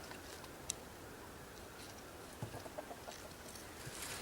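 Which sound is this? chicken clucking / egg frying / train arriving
chicken clucking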